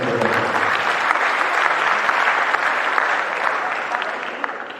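A crowd at a motivational grand seminar in Banten applauds, dense and steady clapping that holds at an even level before easing off slightly at the end.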